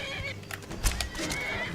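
A horse in a Western-themed video game neighs once, a short whinny rising out of a steady, busy game soundscape, fairly close and moderately loud.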